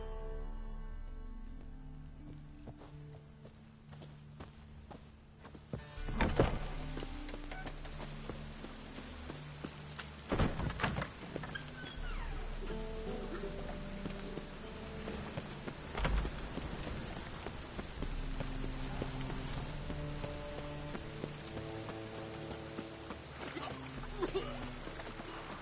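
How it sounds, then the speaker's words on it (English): Rain falls in The Witcher video game, a soft steady patter behind scattered footsteps and occasional sharper knocks and crackles, quiet overall and without talk. "Rain again."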